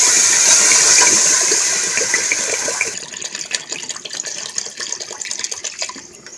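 Water pours from a 1-litre bottle into a pot for basanti pulao, a loud, steady gushing splash that thins after a few seconds into a softer, uneven trickle and dribble, close by.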